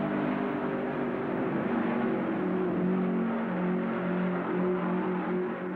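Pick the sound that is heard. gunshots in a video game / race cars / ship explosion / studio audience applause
race cars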